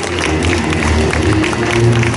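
Crowd applause after a ninja sword-and-combat demonstration by a Tokugawa Ieyasu and Hattori Hanzo troupe, continuous clapping mixed with a loud low hum and some voices.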